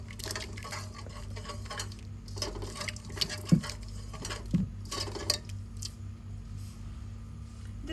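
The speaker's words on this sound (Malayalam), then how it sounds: "ഇളക്കി കൊടുക്കാം" Cooked toor dal for sadya-style Kerala sambar is stirred in a pot, with a spoon clinking and scraping against the metal in a few separate knocks over a soft, wet background, close by and with no talk.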